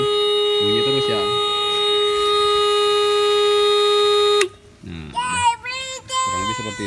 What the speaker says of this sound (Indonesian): Ini untuk memutuskan arus sekaligus alarm.